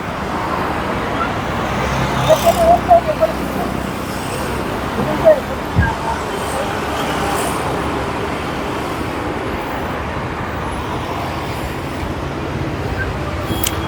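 Steady traffic roars past on the Pune–Nashik highway, a continuous near rumble of cars and heavier vehicles, with a few louder passing surges and people talking over it.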